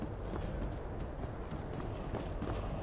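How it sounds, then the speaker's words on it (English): Horses gallop in the video game Skyrim, a dense, steady rumble of hoofbeats that stays loud and continuous through the short stretch with no pause. "Heavens, horses!"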